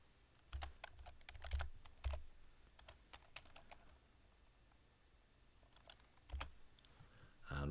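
A computer keyboard being typed on at a desk, quiet bursts of irregular key clicks with short pauses between words and a louder clack near the end, no voices over it.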